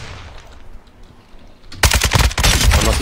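Video game gunfire erupts partway through as a loud, rapid automatic burst after a quieter stretch of low background rumble, continuing to the end without talk.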